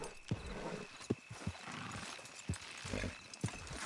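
In the video game Red Dead Redemption 2, horses clop along with irregular hoof beats and occasional whinnies, heard faint and at a distance over a soft ambient background.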